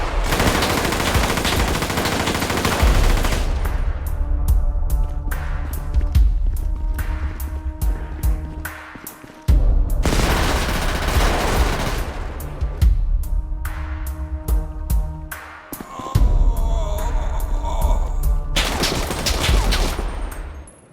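AK-47 gunfire in a dramatized fight, rendered as loud, rapid automatic bursts with broadband cracks and dense repeated shots, separated by brief pauses and layered over constant music.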